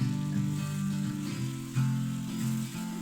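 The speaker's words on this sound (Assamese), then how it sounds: "এতিয়া অকণমান ভাজিব লাগিব বিলাহী গলি যোৱালৈকে।" Puréed tomato paste frying in a pan for chicken curry, a continuous close sizzle with steady hissing over a low rumbling hum and small shifts in intensity.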